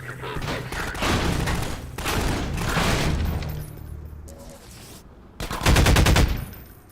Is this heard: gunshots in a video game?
yes